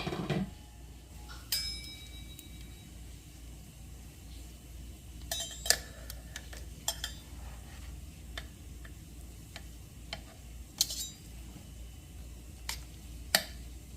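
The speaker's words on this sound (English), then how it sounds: "All right, so we're going to flip the meat now." A large piece of beef is turned over in a slow cooker, giving scattered light clinks, taps and scrapes of utensils against the crock over a low steady background, with no talking.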